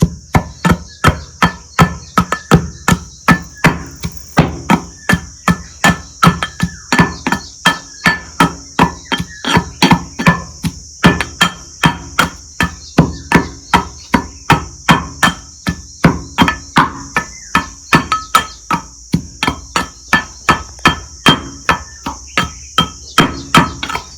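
Wheat grains pounded by hand in a home kitchen, a steady rhythmic series of sharp, close thuds repeating roughly twice a second, loud and unbroken with no talking.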